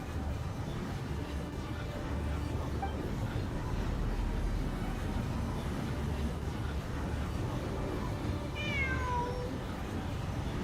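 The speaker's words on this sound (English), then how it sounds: "There's a cat." A cat meows in the game Genshin Impact, a short rising-then-falling call near the end, set against a steady, busy game soundscape with no talking.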